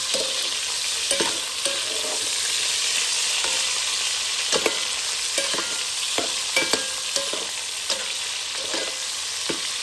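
Onions sizzle steadily in a hot pan alongside smoked sausage, a dense, even frying hiss broken by occasional soft knocks of stirring.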